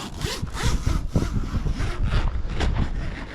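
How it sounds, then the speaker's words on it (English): A zipper on a rooftop tent mounted on a Hilux is pulled open in several rough, rasping strokes, loud and close, with the fabric rubbing and flapping in wind. "Take the ocky strap off. And continue unzipping."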